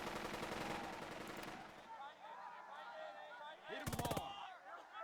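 Rattling bursts of small-arms and machine-gun fire sound in a World War II tactical video game, loud at first and then thinning into scattered shots, ending with a sharp close burst as a voice shouts an order.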